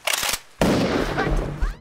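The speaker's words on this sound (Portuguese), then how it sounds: "Hyun-soo atira nela duas vezes" Gunshots fired at a monster in a film, heard as a quick burst of close, loud shots, then a second sharp blast with a rumbling, echoing tail.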